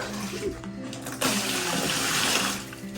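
Water runs steadily from a tap, starting abruptly after a moment and continuing as a loud, close splashing flow.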